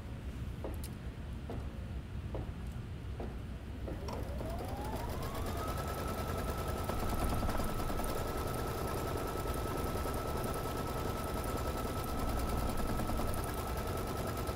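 An embroidery machine stitches a printed fabric design, a steady fast mechanical whir with a sustained motor tone rising in pitch after a few separate clicks at the start, continuous and fairly close throughout.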